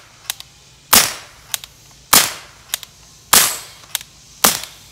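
A Trapmaster gun discharged after plinking: four loud, sharp reports in a steady rhythm about a second apart, each with a short ringing tail, interleaved with faint mechanical clicks.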